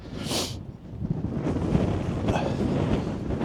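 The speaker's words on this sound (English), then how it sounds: "It's very windy." Gusty coastal wind on the Isle of Man buffets the microphone in a low, continuous rumble, swelling and easing over a few seconds with a brief hiss early on.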